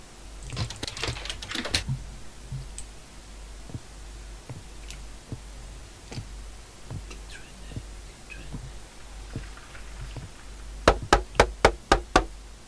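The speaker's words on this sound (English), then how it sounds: "I hear knocking and I will not go." Knocking in the horror video game Locked Up: scattered soft knocks and taps through the middle, then a quick run of five loud, sharp knocks near the end, with no talk.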